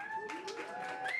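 A comedy club audience gives a short round of sparse clapping, a few distinct claps standing out over a faint tonal hum and a thin layer of background murmur.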